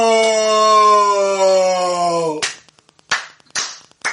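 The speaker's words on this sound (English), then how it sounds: "Slow clap." A sustained, wavering vocal howl from a person at a wrestling broadcast gives way to a few slow, deliberate, widely spaced hand claps, loud and close.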